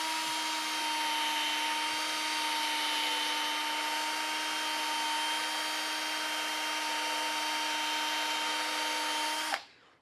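A cordless drill fitted with a foam sponge pad polishes a scratch on a car bumper at low speed setting 2, a steady close whirring hum that runs unbroken for about nine seconds before abruptly shutting off.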